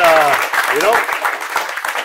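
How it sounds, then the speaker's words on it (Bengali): Audience applause breaks out for a guest on a podcast, a short burst of clapping that runs alongside a voice speaking over it. "অঙ্কুশ দার জন্য সবাই প্লিজ জোরে হাততালি দাও।"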